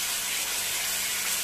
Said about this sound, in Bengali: মশলা একটু কষাই, মশলাটা খুব ভালো করে কষাতে হবে